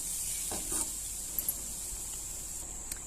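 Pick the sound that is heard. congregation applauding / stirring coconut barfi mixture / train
stirring coconut barfi mixture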